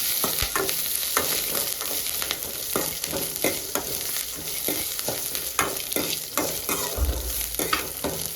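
Onions and green chillies fry in a hot pan, a steady dense sizzle with frequent stirring scrapes and clinks, close and continuous with no talking.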